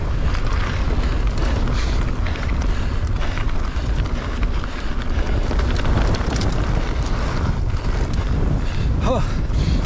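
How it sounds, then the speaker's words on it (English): Strong headwind buffets the microphone of a mountain biker riding uphill at a bike park, a loud, continuous gusty roar with some breathing underneath. "uphill and a headwind"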